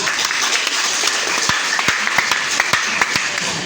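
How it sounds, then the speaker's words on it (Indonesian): A crowd applauds for Leoleba at an education report-book handout event, a dense wash of clapping with a few sharp, loud individual claps standing out near the front. "tepuk tangan buat Leoleba"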